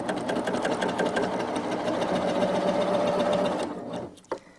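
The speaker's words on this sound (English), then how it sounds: "I'm going to just step on the gas. I want to make sure the first stitch goes right into fabric." A Baby Lock Applaud embroidery and sewing machine stitches steadily into fabric, a loud, close, even mechanical whir with rapid needle ticks for about four seconds, then stops with a brief clunk.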